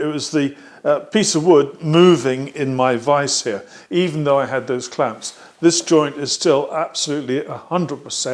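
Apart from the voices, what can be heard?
No everyday noises stand out.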